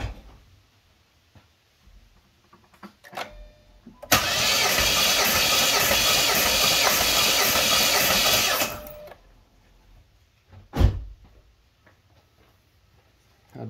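The starter cranks a 2008 Jeep Liberty engine during a compression test, a rapid rhythmic churning burst of about five seconds set between quiet pauses, clicks and handling noises, with one sharp knock afterward.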